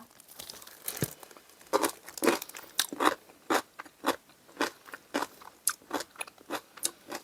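Homemade radish kkakdugi kimchi being crunched and chewed up close, a steady run of loud, wet, crisp bites and chews one after another.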